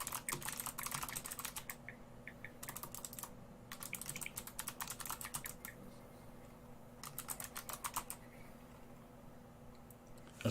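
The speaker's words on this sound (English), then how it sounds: "I was gonna say I'm typing in." Bursts of rapid typing on a computer keyboard, close and fairly soft, coming in clusters separated by short pauses over a steady low hum.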